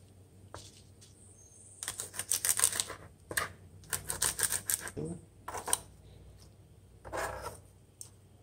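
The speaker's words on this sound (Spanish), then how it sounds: "La picamos bien picadita." Lime leaves finely chopped with a knife on a board, bursts of quick, crisp tapping cuts separated by short pauses, close and clear against a quiet background.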